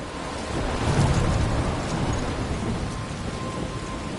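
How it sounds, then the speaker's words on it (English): A storm near a lighthouse, with steady heavy rain drumming and a deep rolling rumble of thunder swelling early and then fading under the continuous downpour. "I'm trapped in a storm?"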